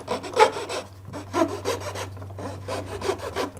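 Saw-sharpening file rubbing in a groove on a wooden spindle, a series of short, close rasping strokes in quick bursts with brief pauses between them.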